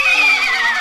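A cartoon horse lets out a short, bright neigh in a Bugs Bunny cartoon, one sustained, slightly wavering whinny lasting under a second, loud and alone.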